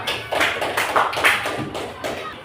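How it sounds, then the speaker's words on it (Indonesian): Classmates clap for a student in a school biology lesson, a few uneven bursts of hand claps and taps, close and moderately loud, with a voice speaking over them. "tepuk tangan untuk Ataya."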